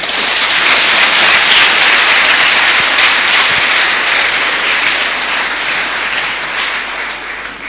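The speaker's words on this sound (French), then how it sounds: "Alors pourquoi nous applaudissons." A congregation at a thanksgiving Mass applauds in a loud, dense, sustained wash of clapping that holds steady for several seconds before easing slightly.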